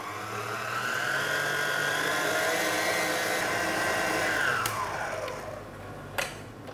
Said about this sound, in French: Nous allons les incorporer progressivement avec le batteur